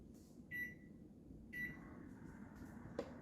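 A microwave oven heating okra hums quietly with a low steady drone for about a minute, with two short electronic beeps and a soft click near the end.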